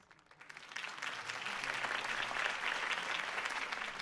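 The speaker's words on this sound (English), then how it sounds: "could have heard that applause" A crowd applauds a mayoral campaign speech in the video game Batman: The Enemy Within, the clapping swelling from quiet into a dense, sustained roar that holds to the end.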